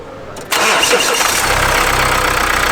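A faulty car under warranty with a replaced tensioner cranks and starts abruptly after a brief quiet moment, then settles into a loud, close, steady idle.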